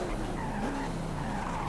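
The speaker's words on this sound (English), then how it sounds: "We drift around this corner." A Koenigsegg CCX drifts through a corner in Forza Horizon 5, its tires squealing in a loud, continuous screech over the engine's drone, with the pitch of the squeal sliding as the slide goes on.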